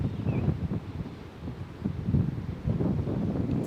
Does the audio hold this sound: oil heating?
no